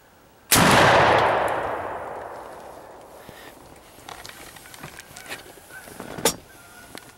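A single loud, close shotgun blast from a turkey hunt booms and rolls away in a long decaying echo, followed by quieter rustling and a few sharp clicks.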